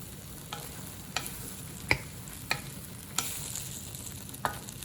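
Dried noodles being stir-fried with vegetables and sauce, a steady sizzle with repeated sharp scrapes and clacks of the spatula against the pan, several distinct strokes spread across the stretch, close and moderately loud.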